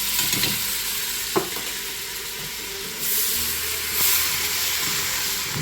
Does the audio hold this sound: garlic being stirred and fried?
yes